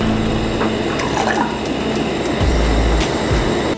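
Water or stock pours into a pot of Korean soft tofu soup (soondubu) set over a lit burner, giving a close, steady splashing with low rumbling and a few drips, no voices.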